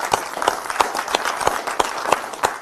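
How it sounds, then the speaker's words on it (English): A small audience gives a round of applause to the evening's hosts, the claps coming as distinct, fairly sparse bursts at a steady pace over the whole short stretch. "can we just give them a round of applause for allowing us to be here tonight?"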